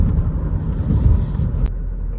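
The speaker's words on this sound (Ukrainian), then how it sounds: "Ну, от Їдемо по такій поганій дорозі." A Renault car drives over a bad, potholed road, giving a steady loud low rumble with one sharp jolt near the end.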